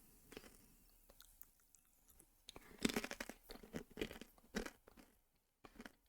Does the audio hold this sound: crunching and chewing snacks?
yes